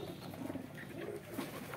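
Pet pigeons feeding on bottle gourd leaves give soft, low coos in short murmuring bursts, faint and close, with no talk over them.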